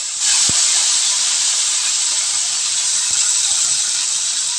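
Cut potatoes dropped into hot oil in a home kitchen pan, a loud, sustained bright sizzle that bursts in abruptly and holds steady, with a few faint clicks underneath.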